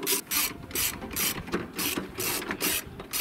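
A hand ratchet loosens 10mm bolts on the starter motor of a Toyota 2.0L D4D diesel, with quick bursts of clicking pawl strokes repeated in a steady rhythm, close and clear, with no talking.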